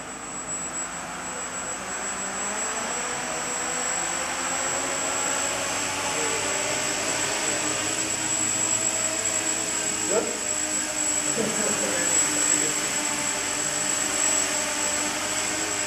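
A small quadcopter drone flies during a team test flight, making a continuous high-pitched motor whine and rotor hum that stays fairly steady, with a few brief clicks and voices in the background.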